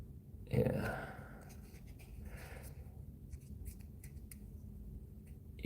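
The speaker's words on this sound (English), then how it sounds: "From these squares, we'll cut our circles." Scissors snip through craft foam while cutting circles from small squares for fly-tying bass foam divers; a few close, soft cuts near the start, then quieter handling under low background noise.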